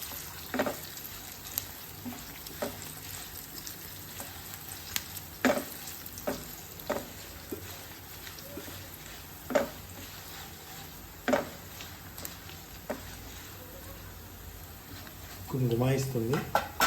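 Tempering (popu) frying in hot groundnut oil with a soft continuous sizzle, broken by scattered clinks and scrapes of a spoon stirring against the pan and a clatter of utensils near the end.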